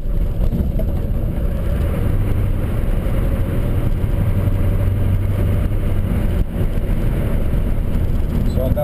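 A 1981 Chevrolet C10 with an Oldsmobile diesel engine drones steadily while driving, a low continuous rumble heard from inside the cab with road noise blended in.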